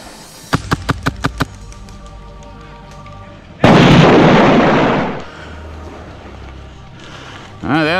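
A grenade goes off in a first-person shooter with a loud, close blast that rolls into a rumbling tail, after a quick string of gunshots. A voice can be heard briefly near the end.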